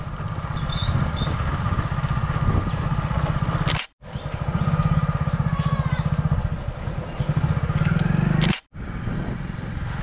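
Motorcycle riding through village roads in rural Birampur, a close, steady engine drone with rhythmic pulsing, cut by two brief clicks and dropouts.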